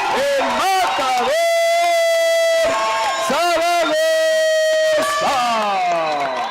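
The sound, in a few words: crowd cheering at a fight event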